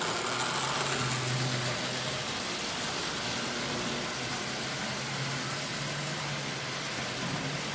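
A Marx tin litho diesel toy train's motor runs steadily, a faint, continuous whirring hum with hissy noise and no talking.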